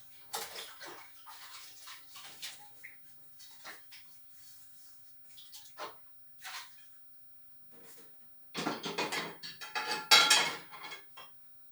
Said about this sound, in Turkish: Bulaşıklarını giderip koyuyorum.